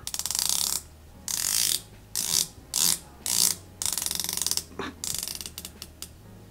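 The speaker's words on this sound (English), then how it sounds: "Let's listen to the bezel action. I think it's 120 click bezel." A Borealis Bull Shark v2 38mm automatic dive watch's 120-click bezel turning, close and loud, in several bursts of rapid crisp ratcheting clicks separated by short pauses, with no voices.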